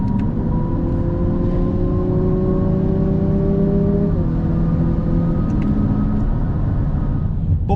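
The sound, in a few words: Lexus UX250h hybrid engine revving with active sound control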